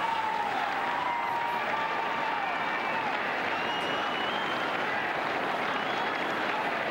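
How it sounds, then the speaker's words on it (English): A dense crowd in St. Peter's Square roars and applauds continuously, a steady wash of cheering and clapping with high whistles and shouts rising through it, heard from within the crowd. "we're in the middle of the crowd here in St. Peter's Square. Everyone is, as you can hear, cheering"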